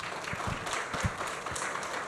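An audience at a Gunpo mayoral candidate debate gives a brief burst of scattered clapping, a few distinct claps over a murmuring room.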